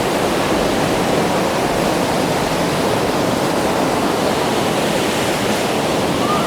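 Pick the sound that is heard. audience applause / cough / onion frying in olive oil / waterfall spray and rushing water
waterfall spray and rushing water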